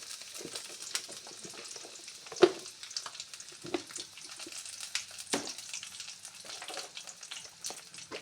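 Curry leaves and dry chillies sizzle and crackle in hot oil, with soft, close spattering and scattered sharp pops throughout, no talking.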